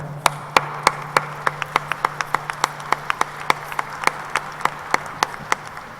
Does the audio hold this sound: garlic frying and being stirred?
no